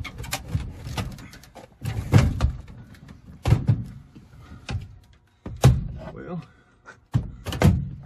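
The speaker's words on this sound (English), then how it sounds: "I guess that's how the door comes off." Clunks, thuds and knocks of a door being worked off an RV microwave, arriving in irregular bursts with pauses between them, under a man's occasional speech nearby.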